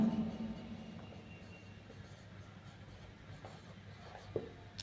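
Chalk or marker writing on a board during an accounts lesson on journal entries makes faint scratchy strokes in short uneven bursts, soft and close against a quiet room.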